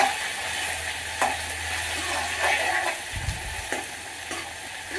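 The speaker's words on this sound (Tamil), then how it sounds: "வெங்காயம் நல்லா வதங்கி வந்துருச்சு." Onions sauté in a pan for sambar with a constant frying hiss, broken by occasional soft scrapes as they are stirred.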